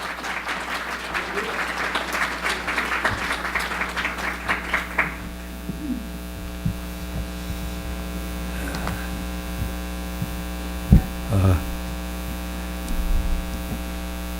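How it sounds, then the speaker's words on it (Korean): A church congregation claps to welcome a visiting pastor, lively applause for about five seconds before it dies away into a steady electrical hum with a few faint bumps and knocks. "우리 박수로 우리 할렐루야 하시면 박수 한번 환영하십시오."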